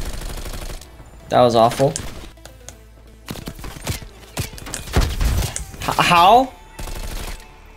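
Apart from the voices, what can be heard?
LMG gunfire in Black Ops Cold War video game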